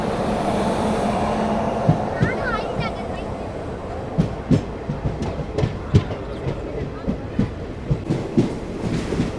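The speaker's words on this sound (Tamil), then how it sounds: "கரெக்டாக 7:50க்கு திண்டுக்கல் வந்து டிபார்ட் ஆகி போய்கிட்டு இருக்கோங்க" A passenger train on the Tambaram to Bodinayakkanur run pulls out of Dindigul station, with a steady rolling rumble and rhythmic wheel clicks over rail joints growing more regular, recorded from inside the carriage.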